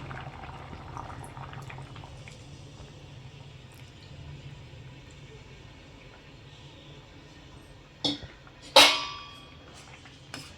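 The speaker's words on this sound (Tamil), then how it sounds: "தேங்காய் பாலும் ரெடியாக எடுத்து வச்சுட்ருக்கோங்க இப்போ ஊற்றிடலாம்" Tamarind okra curry simmering on a gas stove, a low steady bubbling, then coconut milk poured in near the end with two short, sharp splashing bursts close by.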